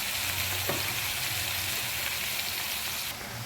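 A spice paste of cumin, Kashmiri chili powder, ginger, tomato and green chili sautés in a pan, giving a dense, even sizzle that holds steady throughout with faint scraping stirs underneath.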